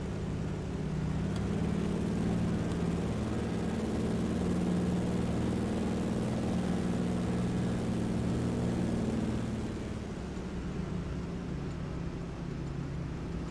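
Steady, droning radial aircraft engine in a flight simulator game, a loud continuous rumble holding even for about nine seconds before easing slightly lower toward the end, with no talk over it.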